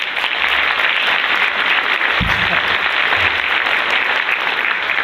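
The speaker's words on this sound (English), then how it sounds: "Please give him a round of applause." An audience at a science talk claps continuously for a speaker being introduced, a dense, even wash of applause held at full strength throughout.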